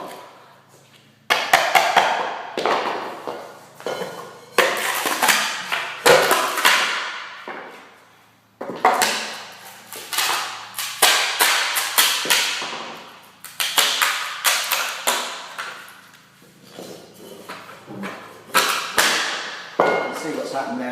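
A chisel pries up the top layer of engineered wood floorboard, giving repeated sharp cracking, splintering snaps in bursts of a second or two, loud and close, with short pauses between.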